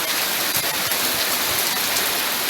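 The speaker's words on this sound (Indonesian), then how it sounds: "Hujan sudah datang." Steady first rain of the season falling outdoors, a dense, even hiss of drops that stays constant and fairly close throughout, with no voices.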